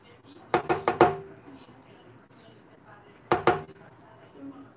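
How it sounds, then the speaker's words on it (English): A spatula cuts cream cheese into chunks in a bowl for buttercream, giving a quick cluster of four soft knocks, a pause, then two more, close and moderately loud. "I'm going to cut it kind of in chunks with this, my spatula, and kind of just incorporate in there"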